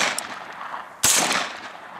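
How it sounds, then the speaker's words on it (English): A single sharp gunshot from a Sterling 9mm semi-auto carbine fired at a bowling pin chunk outdoors, one loud close crack midway with a brief trailing echo over light background noise. "I'm gonna shoot that bowling pin chunk."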